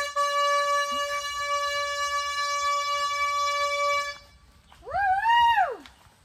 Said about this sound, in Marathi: आजोबा भोंगा वाजवत आहे